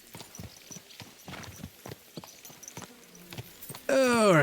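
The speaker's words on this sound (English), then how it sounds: "What a beautiful horse." A horse walks in the Kingdom Come Deliverance 2 video game, its hooves clip-clopping in a steady rhythm at close range before a horse whinnies loudly at the end.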